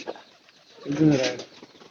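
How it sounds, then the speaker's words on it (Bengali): A pigeon in a loft gives a short, low cooing call close by, a single soft burst amid quiet surroundings. "আমার এখন পালায় কত ধরা কবুতর আছে"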